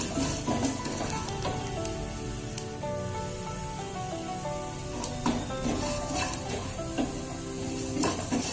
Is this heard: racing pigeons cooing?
no